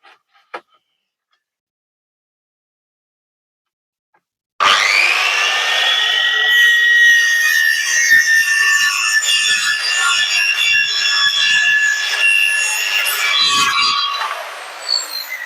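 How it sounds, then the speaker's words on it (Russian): A jigsaw (parquet saw) with a new blade cutting a wooden countertop: a few seconds of near silence, then a loud, steady, close whining buzz of the saw running continuously through the wood until it stops near the end. "Буду эту сторону пилить, покажу."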